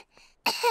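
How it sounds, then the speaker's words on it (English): A short cartoon cough comes in a single quick, close burst after a faint throat sound, with no talking over it. "Danny Dog and Susie Sheep have caught Pedro's cough."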